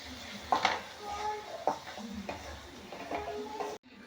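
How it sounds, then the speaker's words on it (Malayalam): A spoon stirs mango pickle with halved dried red chillies in a pan, giving soft scraping and occasional clinks against the metal, fairly faint and intermittent over a quiet sizzle. "എന്നിട്ട് അത് നമ്മുടെ മാങ്ങ അച്ചാറിലോട്ടേക്ക് ഇട്ട് നന്നായിട്ട് ഇളക്കി കൊടുക്കുക."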